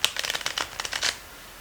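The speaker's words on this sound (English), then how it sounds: "Okay, I'm going to shuffle here," Tarot cards are shuffled in a short, quick burst of crisp riffling flutters, close and alone.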